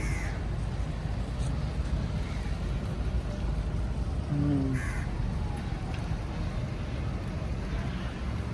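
Crows caw a few times against a steady, dense background rumble in a Malaysian city, the calls fairly clear but not close.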